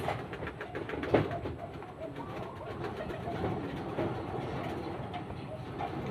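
Racing pigeons coo and flutter amid a busy, steady outdoor din, with a brief louder burst early on and no clear talking.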